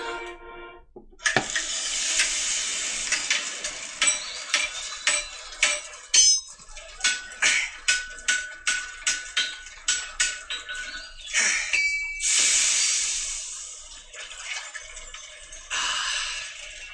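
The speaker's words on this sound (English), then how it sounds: "Sounds like he's forging something." Repeated metallic clanks of a hammer forging in the video game Echoes: The Cursed Ring, a rhythmic series of sharp strikes with hissing noise before and after.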